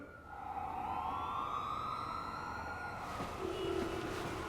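A siren wails with a rising and falling tone, steady and fairly loud, seemingly passing nearby over a background of traffic noise.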